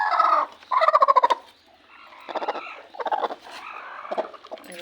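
Brooding hens clucking close by in a village yard, several bursts of rapid pulsing calls separated by short pauses, with no speech.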